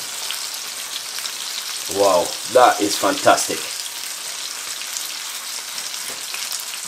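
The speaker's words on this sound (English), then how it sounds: "Nice when you fry fish and you got a lot of juice on it." Loud, steady sizzle of sea bass frying in hot oil in a pan, with a brief burst of excited speech over it partway through.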